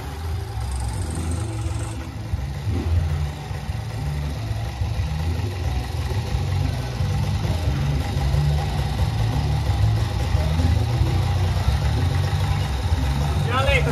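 A small 75cc moped engine idles steadily for the whole stretch, with a low, even drone that holds a constant level as voices talk over it now and then.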